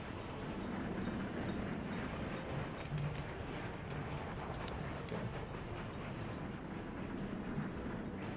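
A train rumbles continuously along a railroad in Workers and Resources, with a steady low roar and faint rhythmic clatter of wagons at moderate distance and no speech.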